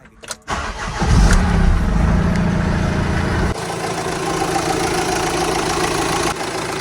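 A Renault Master van's engine cranks and catches after a brief click, then settles into a steady, loud, close idle with a slight drop in pitch partway through, no talking.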